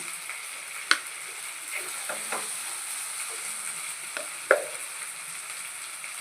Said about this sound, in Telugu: ఉల్లిపాయలు టమాటాలు బాగా వేగిపోయింది. అల్లం పేస్ట్ వేసేసాను.